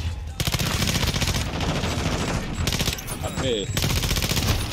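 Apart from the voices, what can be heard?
gunfire in a shooter video game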